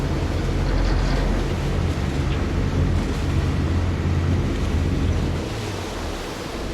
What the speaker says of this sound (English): That's a quick ferry.